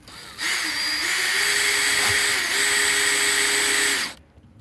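A power drill drives black screws through metal roofing sheets to join two of them, one steady high whine running about four seconds with a slight pitch rise midway, close and loud with no talk.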